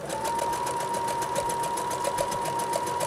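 A sewing machine stitches elastic with a fast, even needle rhythm, loud and close, running steadily with no voices.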